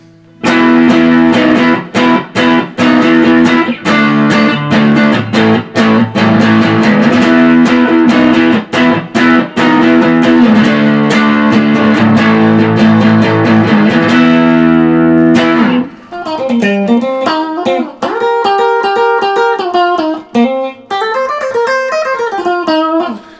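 A Jet Guitars JS300 electric guitar plays through its neck pickup, loud and close: strummed chords ring for about fifteen seconds, then clean single-note melodic lines follow. No one speaks.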